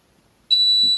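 A multimeter's continuity buzzer sounds as a probe touches a good fuse on a laptop motherboard: silence, then a sudden steady high-pitched electronic tone that holds for the remaining half second, close and loud.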